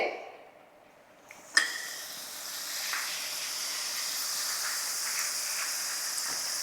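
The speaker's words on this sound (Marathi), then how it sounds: "एक तुम्हाला पापड तळून दाखवते" A masala papad drops into hot oil after a sharp click, setting off a sudden loud sizzling hiss that settles into a steady, bright frying crackle for several seconds.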